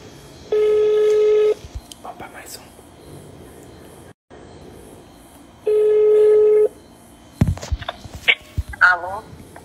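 Two bursts of telephone dialing tones as a presenter calls a follower to give a gift, each a steady beeping tone lasting about a second, followed by clicks of a phone line connecting, with faint background noise between.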